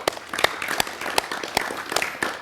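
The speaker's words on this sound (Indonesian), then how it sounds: "Tepuk tangan" Scattered, uneven clapping from a small group of listeners at a storytelling session, individual sharp claps spaced irregularly at a fairly quiet level.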